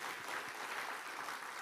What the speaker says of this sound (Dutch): applaus voor RTV NOF